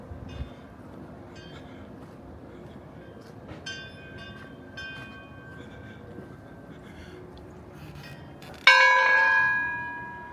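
A single loud clang from a train bell in a private bell collection rings out near the end and decays with a long metallic hum, after quieter background noise and faint earlier tones.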